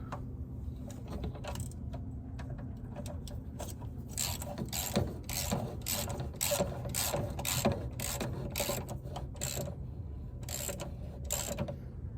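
Ratchet socket wrench turning on a cabover truck, bursts of quick metallic clicking repeating in a steady rhythm, close and fairly quiet over a low background hum, with no talking.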